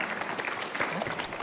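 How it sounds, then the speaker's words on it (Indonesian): Lively applause from an audience at an Indonesian stand-up comedy show, a dense burst of clapping heard up close for a moment with some crowd noise mixed in. "Kita sambut dengan tepuk tangan yang meriah"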